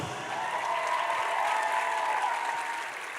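A crowd claps and cheers in steady, dense applause for a few seconds at a film festival awards presentation, loud and continuous throughout.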